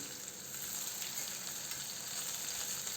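Chopped onion lightly sautéing in a pan for an Indian bhindi aloo sabzi, a steady, even sizzle that holds at a constant level throughout with no voices.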